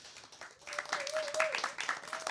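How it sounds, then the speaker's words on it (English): Audience at an open mic poetry night claps and cheers for the next performer, a dense patter of hands that swells after a quiet start and carries on steadily, with voices calling out over it. "So without further ado, clap it up for Miss Heavy Petals."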